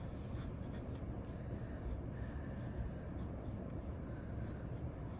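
A pencil sketching on paper makes steady, continuous scratchy rubbing strokes close up for several seconds, the first step of a pointillism drawing.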